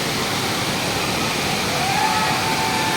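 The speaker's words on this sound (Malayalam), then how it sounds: "അരീക്കൽ വെള്ളച്ചാട്ടം" The Areekkal waterfall in Kerala roars in a constant, dense rush of falling water, loud and close, with no pauses.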